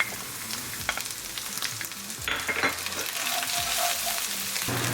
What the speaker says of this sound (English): We're going to cook our ginger, garlic at 20 seconds.